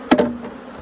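A small wooden hive box is struck, giving a sharp knock followed by a brief burst of honeybee buzzing that quickly fades, close and short.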